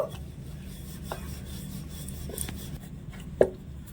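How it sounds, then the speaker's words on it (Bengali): A wooden rolling pin presses and rolls flour-dusted paratha dough thin for a Mughlai paratha, giving a soft, steady rubbing and rasping close by with a few light knocks against the board and no talking. "এবারে চাটের মধ্যে রেখে আমি বেলে নেব উপরে সামান্য একটুখানি ময়দা ছড়িয়ে দিচ্ছি পাতলা করে মেরে নেব"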